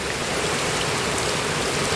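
Heavy downpour in Kanyakumari, a dense, unbroken rush of falling water heard close and fairly loud, constant throughout without any talking.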